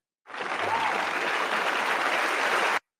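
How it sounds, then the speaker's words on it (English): A canned applause effect triggered from a button plays as a dense, even burst of crowd clapping, starting and stopping abruptly after a couple of seconds. "I thought I had an applause button on here."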